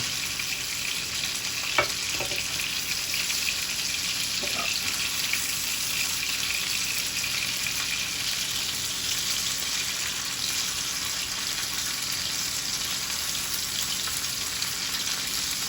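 Steak searing in a hot pan before pressure canning as Swiss steak, a steady loud sizzle that runs unbroken for the whole stretch, with a couple of faint clicks early on and no talk.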